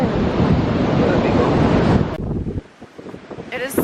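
Strong wind roars across a microphone at the beach in Bunbury, WA, loud and buffeting for about two seconds before dropping away into lighter gusts and surf noise.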